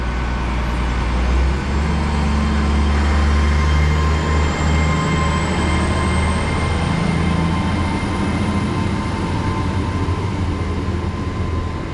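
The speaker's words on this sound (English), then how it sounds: "going out now is I think it's the 1337 Great Western Railway service to Hereford" A Great Western Railway class 800 train pulls out of Moreton-in-Marsh station bound for Hereford, a loud, sustained rumble with rising electric whine across the whole stretch.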